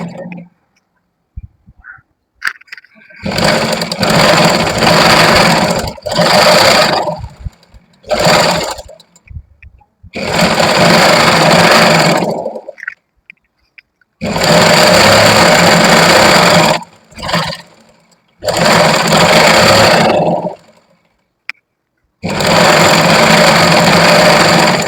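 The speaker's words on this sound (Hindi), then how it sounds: "तो अब स्टिचिंग यहाँ पे कर लेंगे।" An electric sewing machine stitches a lined kurti in repeated loud runs, each several seconds long, separated by brief pauses and close-up clicks of handling the fabric.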